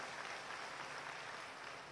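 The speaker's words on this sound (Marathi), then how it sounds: "त्यांचं एकदा जोरदार टाळ्या वाजवून स्वागत करूया" Dense, steady applause from a large crowd at a political rally in Maharashtra, welcoming a guest, with broad continuous clapping that stays even throughout and no speech over it.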